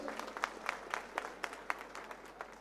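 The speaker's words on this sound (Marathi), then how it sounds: "एकदा जोरदार टाळ्या होऊन जाऊ दे हनुमान शेठसाठी" A crowd claps at a Shiv Sena political rally and party-joining event, a fairly faint, uneven patter of separate claps in quick succession that goes on evenly throughout without any cheering.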